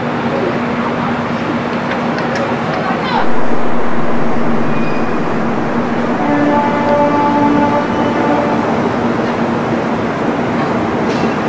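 The Garib Rath Express pulls out on the Kolkata to Puri route with a loud, continuous rumble of rolling carriages and a sustained tonal hum. A brief surge and horn-like tones come partway through, with faint voices in the background.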